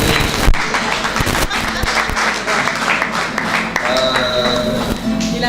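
Audience applause at a book presentation and signing ceremony, dense steady clapping from a crowd lasting throughout, with music and a voice faintly mixed in underneath.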